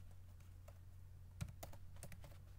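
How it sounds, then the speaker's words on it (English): Faint, close keyboard clicks while a database command is typed at a computer for MariaDB, irregular taps over a quiet background hum, no voices. "You just go ahead and you type this in."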